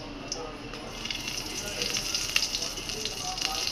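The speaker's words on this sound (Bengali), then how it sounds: "তেল গরম হলে দিয়ে দিবে 5 ফোড়ন" Five-spice mix, dried chili and bay leaf hitting hot oil in a cooking pot, giving a close, steady crackling sizzle with scattered sharper pops.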